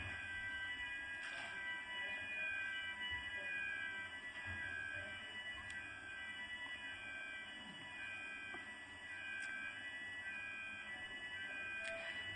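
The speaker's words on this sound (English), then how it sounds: "that is fire alarm" A fire alarm sounds in a classroom as a continuous, steady electronic tone with a buzzy ring, holding at an even level throughout over faint room noise.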